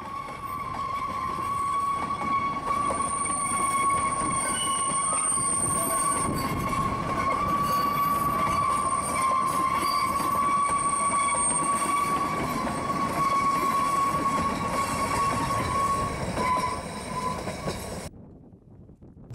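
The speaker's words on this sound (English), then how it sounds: "a steam train passed through the station at the very moment I arrived" A steam train passing through a station on the Ffestiniog line in Wales, with a continuous rumble of rolling carriages and a sustained high wheel squeal along the rails, loud and near, cutting off abruptly at the end.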